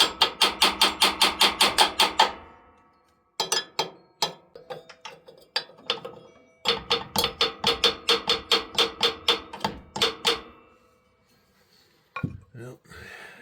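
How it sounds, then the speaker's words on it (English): A hammer raps on the side of an AC Delco impact wrench in fast bursts of bright metallic clinks, several rapid runs separated by pauses, with speech in between. "And take the hammer, go and tap it here on the side."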